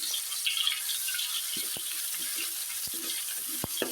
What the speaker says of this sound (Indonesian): ini saya akan menumis ya bumbu untuk dagingnya, dan saya sudah panaskan minyak di atas wajan